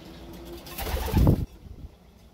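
Pigeons in a loft give a brief, low, throaty coo that rises into one louder muffled burst, with faint rustling in the quiet room around it.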